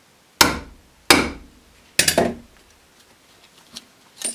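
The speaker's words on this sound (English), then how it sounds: "So you only want to do like maybe two taps with a lighter hammer." Three sharp metallic taps of a 2-pound hammer on an aluminum plant tag at an unhurried pace, close and clear, followed by a few faint light knocks in quiet surroundings.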